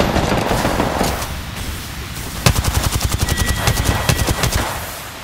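Automatic gunfire in a video game, with a stretch of firing followed by a fast, rhythmic burst of close, loud shots and no talking over it.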